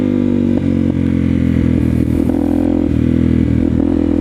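A motorcycle engine revs hard in second gear at about half throttle during a wheelie, with a loud, close, sustained roar and some mechanical clatter.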